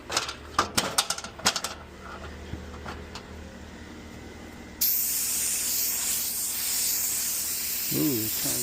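A paint spray gun lays down a base coat, first with a few sharp clicks and knocks, then a steady loud hiss of spraying that runs to the end.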